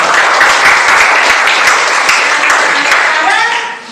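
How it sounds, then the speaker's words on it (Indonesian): Loud classroom applause as students clap together, a dense continuous burst filling the room before tapering off at the end. "Tepuk tangan untuk sekarang"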